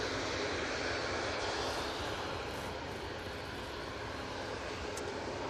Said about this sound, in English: Got a Ryanair coming in